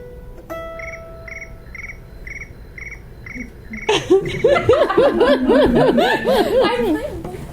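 High cricket chirps pulse in an even rhythm, then someone breaks into chuckling laughter that continues over them.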